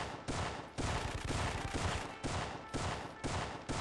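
Sustained gunfire in the PlayStation game Syphon Filter 2, a dense continuous barrage at moderate level broken by a few brief gaps.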